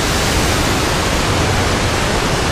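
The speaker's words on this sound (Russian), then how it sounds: "Посмотрите, река, вспененная вода," Loud, continuous rushing river water roars without pause near Lake Tahoe, a dense, close churn of foaming flow.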